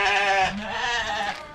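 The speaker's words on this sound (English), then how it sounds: "So I'm gonna feed the sheep." A sheep bleats inside a barn with a steel roof, two close, loud wavering cries in quick succession, the second lower and softer, with no talking.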